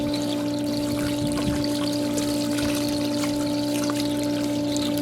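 Water sprays steadily from a garden hose with a kink in it, rinsing dirt off outdoors: a continuous, moderately loud hiss and splatter with no talking.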